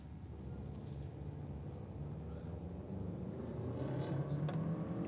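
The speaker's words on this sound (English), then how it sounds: "it looks like a Subaru. Sounds like a Subaru." A Subaru racing car passes during a circuit race, a steady low engine rumble that slowly swells louder and nearer, heard in the distance with no voices.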